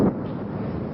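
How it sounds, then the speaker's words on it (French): A distant explosion on a war front line, a brief rumbling boom that rolls into a sustained low, windy roar. "Nouvelle explosion sur la ligne de front cette fois."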